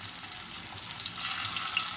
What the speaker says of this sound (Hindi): बिल्कुल हल्की आँच पर हम इन्हें फ्राई करेंगे